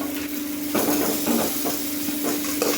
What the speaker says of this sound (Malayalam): നമുക്കിനി അരിഞ്ഞു വെച്ചിരിക്കുന്ന സവോള ഇട്ട് കൊടുക്കാം